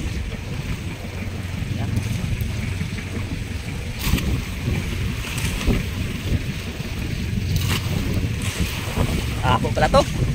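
Strong southwest monsoon wind at sea buffets a small fishing boat off the Philippines, a steady loud rush of wind and water noise with microphone buffeting throughout, and faint voices underneath.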